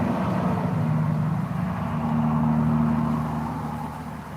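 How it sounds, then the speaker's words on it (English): A dump truck engine rumbles steadily, a loud low drone with a sustained hum that swells and eases slightly as it passes, with no speech. "Yeah, dump truck."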